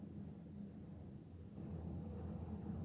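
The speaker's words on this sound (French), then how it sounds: "Non, c'est un camion qui passe." A truck passes nearby on a street in Cambodia, a low continuous rumble like distant thunder that grows slightly heavier midway, with a faint high whine above it.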